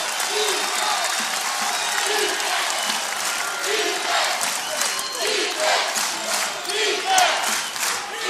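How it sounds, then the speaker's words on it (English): Basketball crowd at a Bellarmine versus Quincy college game cheering and applauding loudly, a sustained roar with rhythmic clapping and shouts swelling toward the end while a commentator talks over it. "Here comes the crowd again."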